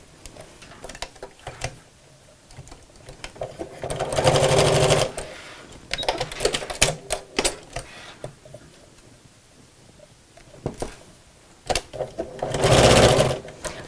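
Sewing machine stitching a messenger bag, tacking into the seam allowance: two loud bursts of rapid whirring stitching separated by handling clicks, rustling fabric and quieter pauses.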